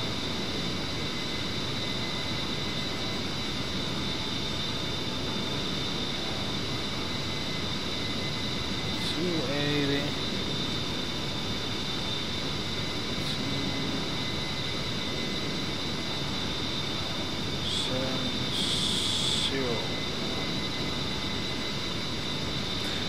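Steady, loud jet-engine roar of an A-10C Warthog in the DCS flight simulator, a continuous droning whine with a high tonal edge that holds throughout, broken only by a few brief clicks and beeps.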